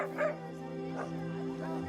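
Dogs of many breeds and sizes waiting in a long line at a mobile animal clinic in South Africa, barking and yipping with whimpers in between, close by, with voices faintly in the background.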